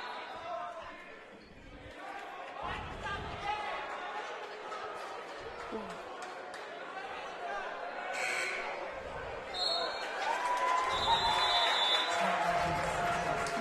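A crowd at a college basketball semifinal, Crown College against North Central University, roars and cheers loudly through a timeout. Ball bounces and shouts mix in, and a commentator talks over the noise.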